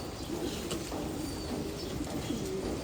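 Pigeons, including a khaki hen and a brown-necked cock, coo softly and steadily from close by, with a faint flutter of wings now and then and a constant hiss of background noise behind them.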